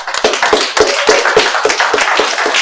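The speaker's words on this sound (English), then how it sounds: "Let's give him a round of applause." Hands clapping in a round of applause for a security department head retiring from a city school district board, steady overlapping claps from a small group, close and fairly loud with no talking.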